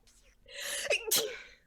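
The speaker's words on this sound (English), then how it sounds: "What a convenient sneeze." A single sharp sneeze in two bursts from the game Danganronpa, a quick intake then an explosive release, close and clear.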